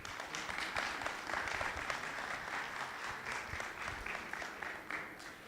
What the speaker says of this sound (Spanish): Un fuerte aplauso para el ingeniero Pedro Pablo